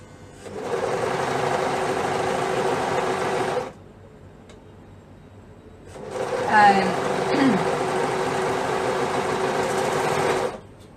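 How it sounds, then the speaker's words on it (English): A sewing machine runs right along the fabric edge of a boy's pajama set, in two loud, steady bursts separated by a short pause, with someone speaking faintly during the second run. "so then I gotta sew right on the edge because I've already cut off the seam allowance"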